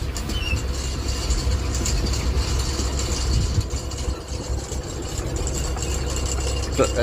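A truck engine idling on a road while stopped for an oncoming vehicle, a steady low rumble that carries through the whole stretch, with faint voices in the background.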